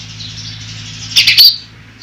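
A quick cluster of bright bird chirps rings out close by in a village, three or four rapid notes over a steady low hum.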